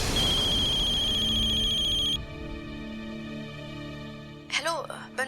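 A phone rings with a bright repeating electronic ringtone that stops after two seconds, leaving a low hum, then a voice speaks briefly.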